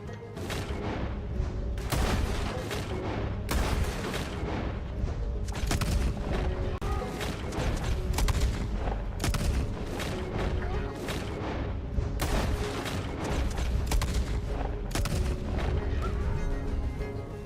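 A .500 Nitro Express rifle fired with unlimited ammo in modded Red Dead Redemption 2, heavy booming shots in fast, near-continuous succession, loud and close, while a voice talks now and then.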